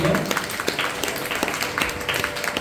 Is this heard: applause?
yes